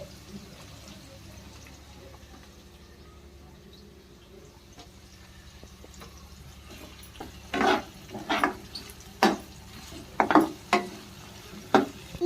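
Chillies tossed into a pan while making uppittu: a steady low sizzle of frying, then after several seconds a run of sharp scraping and clattering stir strokes against the pan.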